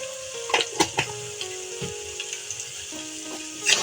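Spices and roasted cumin powder crackle and sizzle in hot oil up close for a raw jackfruit curry, with a few sharp taps and scrapes of a spoon stirring the pan.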